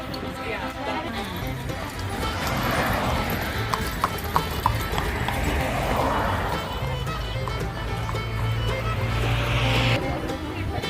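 Hooves of a horse pulling an Amish horse-drawn carriage clip-clop in a steady rhythm under continuous talk, with road and vehicle noise in the background.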